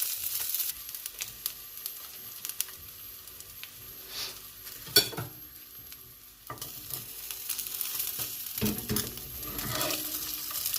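A salmon steak sizzles in a pan on its second side, with a steady broadband fry and a few sharp clinks and scrapes of a utensil, close and fairly loud with no talking.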